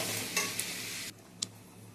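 Frying spice paste sizzling loudly in a pan with a few spoon scrapes, then the hiss drops off sharply as water goes in, leaving a quieter bubbling with another stir.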